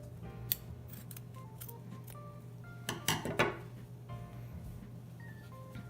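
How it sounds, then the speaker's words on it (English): Scissors cut through the fabric of a necktie with a short burst of crisp, close snips and crunches, preceded by a few light clicks over a steady low room hum. "Now you're gonna cut off some extra from your tie."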